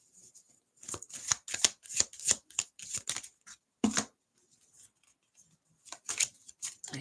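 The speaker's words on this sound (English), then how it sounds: "I need to shuffle this more." Tarot cards being shuffled, a series of crisp riffling bursts in quick rhythm, close and fairly loud, pausing briefly before a final few shuffles.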